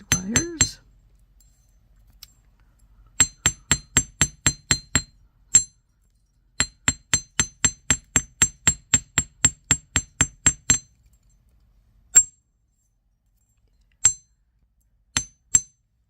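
Hammer texturing flattened wire for earrings, struck with the textured side of the hammer: crisp metallic taps in quick runs of eight or more, short pauses between runs, then a few spaced single strikes near the end. No voices.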